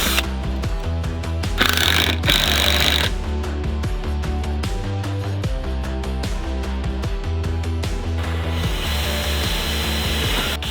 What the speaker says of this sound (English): each hole has to be pre-drilled